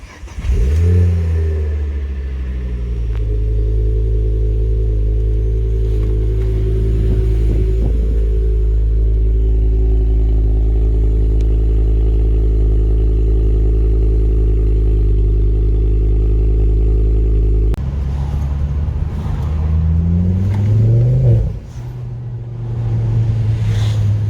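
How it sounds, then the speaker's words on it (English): Ford Focus ST with a new exhaust, resonator delete and decat on a cold start: a loud raspy idle with rev blips and burbles, the engine dropping into a steady high idle before a final rev rises sharply. "First cold start of the ST after the new exhaust,"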